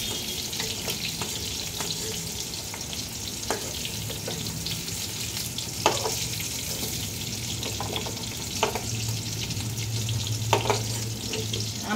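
Carrot, papaya and other vegetables for a mutton stew sizzle and fry in a pan, with a continuous crackle and occasional scraping clanks from stirring, up close.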